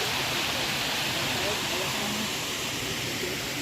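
Kasilak Farm waterfall in New Cortez, a steady broadband rush of falling water, loud and continuous throughout with no pauses, close to the source.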